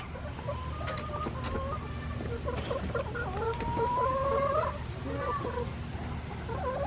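A flock of about twenty-five laying hens clucks and murmurs close by, with overlapping drawn-out calls and short clucks continuing steadily over low background noise.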